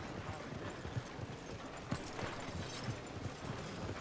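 Horse hooves clip-clop at an unhurried pace near town stables in Red Dead Redemption 2, a steady quiet rhythm of soft hoof strikes under faint background ambience.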